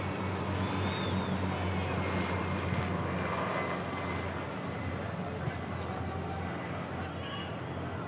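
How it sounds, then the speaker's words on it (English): A helicopter flies past over a Sydney football stadium during an A-League match, giving a continuous distant engine drone that blends with crowd noise and lies under a commentator's talk. "Chopper sailing by,"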